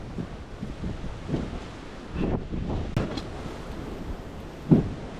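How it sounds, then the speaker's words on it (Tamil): Strong wind blows on a steep climb up Kondarangi hill, rumbling and buffeting the microphone in uneven gusts. Someone speaks briefly over it. "இப்போ காற்று வேறு ஓவர் அடிச்சிட்ருக்கு."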